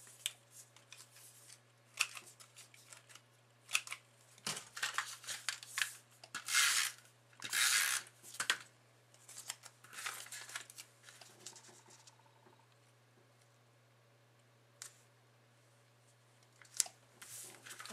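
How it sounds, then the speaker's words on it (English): Corner rounder punch clipping the corners of a small cardstock piece, a series of quiet sharp clicks and crunchy snips interspersed with soft paper rustling and handling, close and otherwise quiet. "I'm going to also corner round it."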